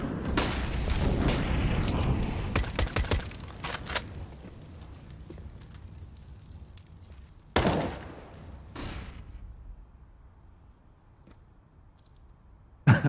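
Gunfire and mechanical clatter from an M4 rifle in Counter-Strike on the Overpass map during a pro match, with a dense loud burst early, then quieter stretches broken by a few sharp isolated shots.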